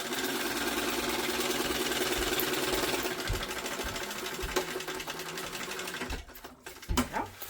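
A sewing machine runs a steady, fast mechanical whir while basting across the bottom of a backpack, then stops near the end, followed by a few soft handling knocks and rustles.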